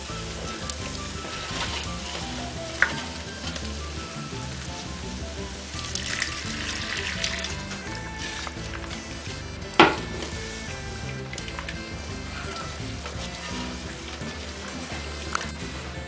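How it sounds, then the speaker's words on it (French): Langoustine sauce sizzles in a pan as white wine is added little by little and stirred, a dense steady crackle with a few sharp clinks. "petit par petit mon vin blanc. Et je continue à mélanger."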